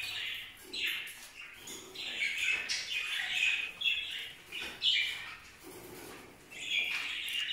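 Small birds chirp and tweet continuously in bright, overlapping calls, fairly close, with a steady busy chatter throughout.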